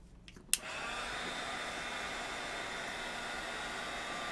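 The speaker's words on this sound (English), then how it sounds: "Okay, we're going to be done heat embossing." A heat gun switches on with a click and then blows a steady, even hiss of hot air for heat embossing, close and constant to the end after a brief quiet start.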